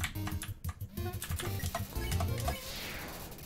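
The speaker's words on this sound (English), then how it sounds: "I'm glad everyone can hear my very tactile keyboard as I dodge everything" Rapid tactile computer keyboard clicks rattle along in dense bursts while dodging attacks in Undertale, close and busy, with a low thumping game beat underneath.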